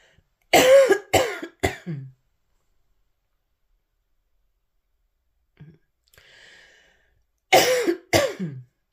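Two clusters of harsh coughs, three in each, separated by a long quiet stretch with a faint rustle in between; close and fairly loud.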